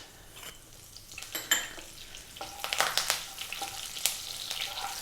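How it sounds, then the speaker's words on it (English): Cumin seeds and curry leaves crackling and sizzling as they hit hot oil on high heat, a burst of sharp pops and spits over a steady fry hiss, with faint clinks of a pan. "We're going to drop in the cumin seeds and the curry leaves, which sometimes can be quite noisy."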